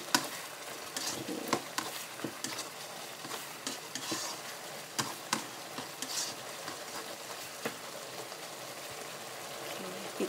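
Mushrooms stir-fried in oyster sauce, a quiet, steady sizzle broken by frequent light scrapes and taps of a spatula against the pan.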